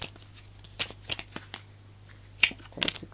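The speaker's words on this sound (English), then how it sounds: "I have been giving these a good shuffle" A deck of tarot cards is shuffled by hand in a quiet room, with a run of crisp, uneven riffles and flicks separated by short pauses.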